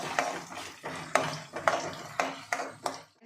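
Peanuts fry in a pan while a spoon stirs them, making about eight sharp metallic scrapes and clinks at a loose, even pace over a soft background of frying.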